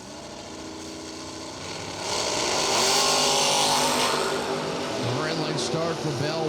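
A '72 Vega and a pickup truck launch side by side at a drag strip, engines swelling from a steady idle into a loud, sustained roar around the midpoint, with a commentator talking over the noise.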